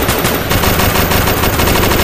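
Rapid pistol gunfire in a dinosaur-themed video game, a loud, dense stream of shots firing continuously for two seconds with no talking.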